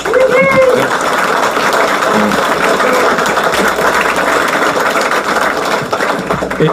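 At a Tesla town meeting in Amsterdam, an audience applauds the Dutch Tesla team with loud, continuous clapping, mixed with crowd noise and a few whistles.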